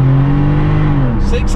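A car engine revs hard and holds a loud, rising drone, then shifts pitch as it pulls away; a voice cuts in briefly near the end.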